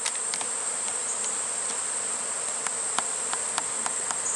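Honeybees walking up into their hive make a dense, continuous high buzzing drone, loud and close, with occasional sharper individual wingbeat passes.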